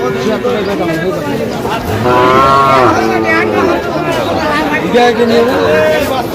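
Sahiwal bull calves mooing at a cattle market, several loud, drawn-out calls close by, one after another, over busy crowd chatter and voices talking nearby.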